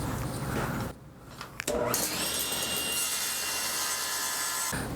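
A wooden block being trimmed to shape for a mallet, a loud steady power-tool cut that starts after a brief pause, runs for about three seconds and then stops abruptly.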